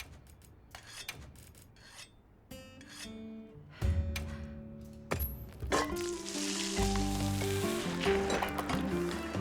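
Food sizzles and fries on a pan while a meal is cooked in a video game, scattered scraping clicks at first, then a steady, close hiss building over the last few seconds.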